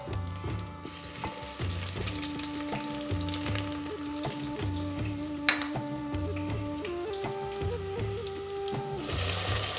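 Cumin seeds, Kashmiri chilies and bay leaf sizzle steadily in hot oil for tadka dal, a continuous crackling fry with a few light clinks and a sharp tap midway, close and alone with no talk.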